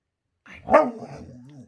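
A pet dog doing a trick on command lets out a single soft, breathy bark that trails into a low grumble, close to the microphone in an otherwise quiet room.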